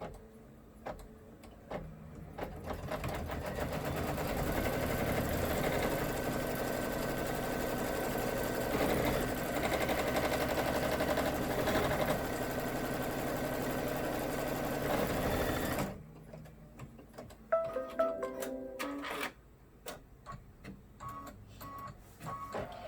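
Embroidery or sewing machine running a placement stitch for appliqué, a fast steady whirring hum for about fifteen seconds that stops abruptly, followed by quieter scattered clicks and handling noises.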